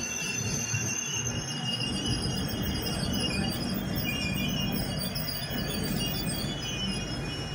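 A passenger train pulls into Balugaon station, its wheels squealing high and continuous over a heavy rumble of rolling railcars, loud and close throughout, with no talk.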